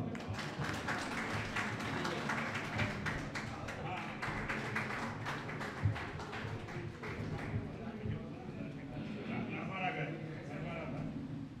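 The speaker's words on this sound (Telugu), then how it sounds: "చప్పట్లో." Audience applause during a shawl-honouring ceremony in a hall, steady dense clapping throughout, with a voice speaking over it.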